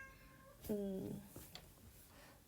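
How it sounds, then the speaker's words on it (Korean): A cat meows once, a clear nearby mew lasting about half a second, heard in a room where a lecture is under way; speech follows at a low level. "선생님 고양이가 야옹야옹 우네요"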